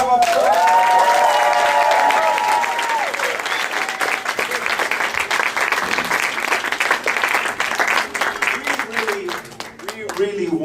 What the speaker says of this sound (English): Can we give the choir one more round of applause?